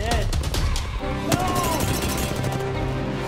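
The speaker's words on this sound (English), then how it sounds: "I just shot Tristan in the back." Apex Legends gunfire sounds as fast automatic bursts and sharp shots over game effects and a voice speaking.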